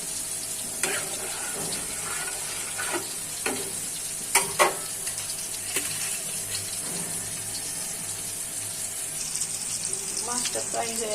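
Tomatoes hitting a pan of fish curry, a loud continuous sizzle with stirring scrapes and occasional clinks, close and steady throughout.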